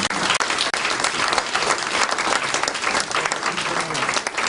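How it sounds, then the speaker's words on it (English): A church congregation gives a sustained round of applause, dense and loud clapping filling the room from start to finish. "So let's give yourselves a round of applause."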